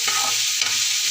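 Onions frying in a pan at home, a steady bright sizzle with stirring scrapes and a brief clatter midway, close and continuous without voices.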